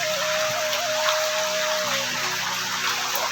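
Rainwater streaming down a stone staircase on the pilgrimage path from Ardhkuwari to Bhawan at Vaishno Devi, a steady close rushing gush with a thin tonal whine running through it.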